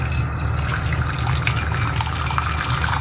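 Hot water pours steadily into a cooking pot for a kimchi soup, a continuous close splashing gush with no pauses and no talking.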